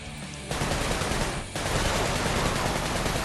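Rapid gunfire from weapons in the video game Sunset Overdrive, a loud, dense stream of shots that starts after half a second, breaks off briefly near the middle, then resumes and carries on steadily to the end.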